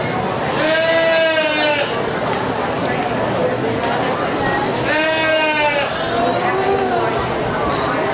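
Goats bleat loudly in two long wavering calls at a county fair goat show, with quieter bleats between and crowd chatter and voices running underneath.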